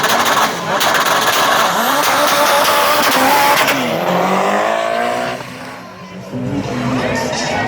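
A Subaru drag racing car accelerates hard down the strip at a Cayman Islands drag racing event, its loud engine rising in pitch and then fading as it passes, with crowd chatter and voices nearby.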